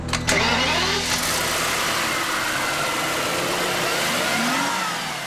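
Rolls-Royce Phantom's specially designed V12 engine starting: a quick cranking burst and catch, then a smooth, steady, close idle that holds evenly to the end.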